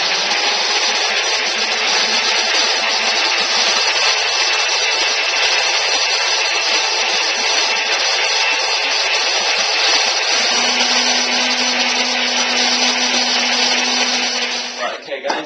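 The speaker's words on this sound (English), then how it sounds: "going to blend that up" A blender whirs loudly and steadily as it blends pancake batter ingredients, a constant high motor whine that shifts pitch slightly partway through and cuts off abruptly at the end.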